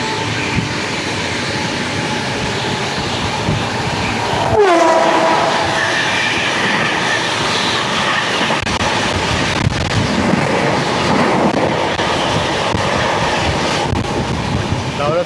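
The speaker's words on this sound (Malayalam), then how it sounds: "ദൗലത്പൂർ ചൗക്ക് സാബർമതി എക്സ്പ്രസ് ആയിരുന്നു പോയത്." Sabarmati Express at Daulatpur Chowk rushing past at close range in hilly country, a steady loud roar of wagons running through the whole stretch with a surge near the start and wind buffeting the microphone.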